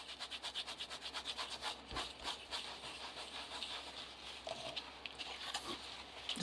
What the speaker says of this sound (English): Then if you want to, give it a buff with a clean cloth.